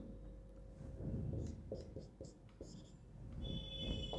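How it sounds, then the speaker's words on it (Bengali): Chalk or marker writing on a board during a physics lecture, faint scratchy strokes and light taps in an irregular rhythm against a quiet room hum. "এই পুরো জিনিসটাকে এখানে লিখছি আমি"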